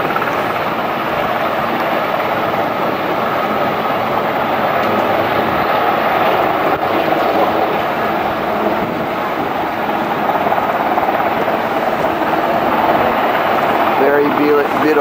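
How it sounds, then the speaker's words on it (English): A South African military helicopter on a rescue exercise over a bay near Hout Bay drones steadily overhead with a loud rotor and engine roar, as people talk over the noise. "Very nice helicopter."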